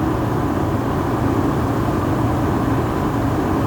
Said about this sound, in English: That loud noise you're hearing right there is that's the fan cooling the truck off a little bit.